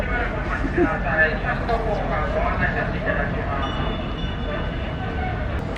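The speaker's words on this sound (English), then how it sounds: "Oh, it's a train." A train rolls past with a loud, steady rumble near Osaka Expo Park while people talk over it.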